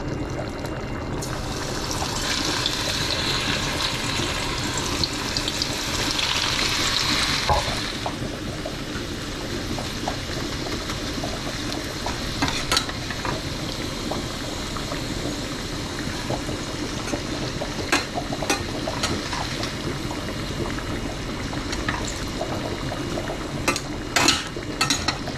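Food frying in hot oil while being stirred, a steady loud sizzle with scraping and stirring clatter, a brighter hiss early on and sharper utensil knocks toward the end, no talking.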